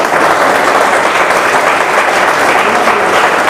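Loud, dense audience applause fills a motivational network-marketing training event as a person is called to the stage, steady and unbroken throughout with no voices over it.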